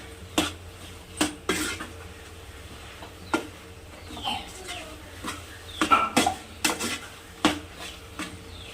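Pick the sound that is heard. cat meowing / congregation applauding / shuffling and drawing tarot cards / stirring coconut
stirring coconut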